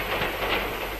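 A train runs along the rails with a brief, steady rumbling clatter that stays even and fairly loud, with no voices.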